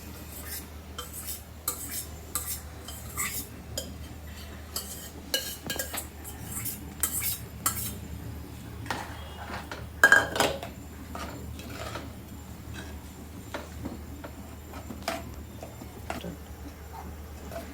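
Moth beans being added to a pan of roasted masala for misal and stirred, with repeated metallic clinks and scrapes of a spoon against the pan, quiet and close, in irregular bursts.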